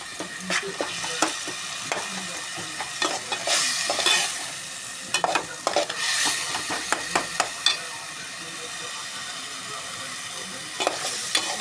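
Kuzhambu being stirred in oil in a cooking pan, with repeated scraping strokes and bursts of frying sizzle, close up and uneven in rhythm, no talking.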